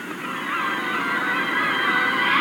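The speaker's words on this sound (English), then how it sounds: "Despite their grace, seagulls can be a deadly menace." A flock of seagulls calls continuously in a dense, steady chorus of overlapping squawks, fairly loud and close, with no talking.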